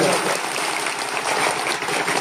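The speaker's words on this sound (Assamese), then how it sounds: "চবেই এটা ডাঙৰকৈ হাত চাপৰি বজাই দিয়ক" A crowd at a panchayat election campaign rally in Barpeta claps loudly and continuously, dense applause close by with voices mixed in.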